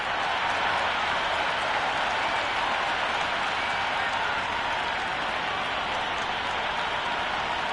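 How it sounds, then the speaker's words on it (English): Stadium crowd in a PS5 T20 cricket video game, Pattoki Warriors versus Sydney Sixers, keeps up a dense, steady roar of cheering and applause that runs loud and unbroken throughout, like rushing noise with no pauses. "already the crowd making a hell of a racket"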